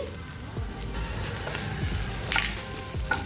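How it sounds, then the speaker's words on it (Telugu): Okra sizzling and frying in a pan as it is stirred, with steady broadband crackle and occasional scraping strokes and light clinks of a utensil against the pan, fairly close and with no voices. "బెండకాయలు అస్సలు జిగురు లేకుండా చక్కగా ఫ్రై అవుతున్నాయండి"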